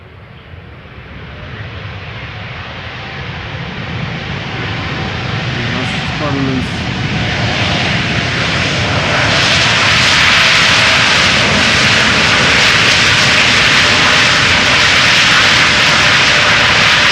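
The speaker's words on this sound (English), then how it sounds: "JetBlue flight 631 A321neo." JetBlue Airbus A321neo, a year-old jet on flight 631 at Schiphol's Polderbaan, builds into a loud, steady roaring engine rush that swells over several seconds and holds strong near the end.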